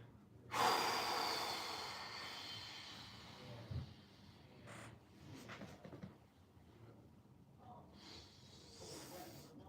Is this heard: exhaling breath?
yes